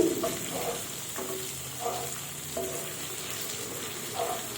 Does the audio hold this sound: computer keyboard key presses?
no